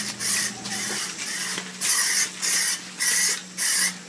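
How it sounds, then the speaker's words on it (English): Plasti Dip sprayed as a light mist onto a car wheel, heard as six or seven short, even aerosol hisses in a steady rhythm with brief gaps between, close and clear over a faint low hum. "I just do a real light mist on the whole wheel"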